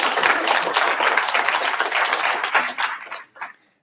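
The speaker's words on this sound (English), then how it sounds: "Applause," Audience applause at a programming conference, a dense burst of clapping that tails off into a few last scattered claps.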